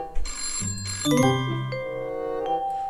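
A phone rings in the video game Christmas Shopper Simulator, a bright electronic ringtone of layered chiming tones that starts after a soft thump and rings on with sustained notes.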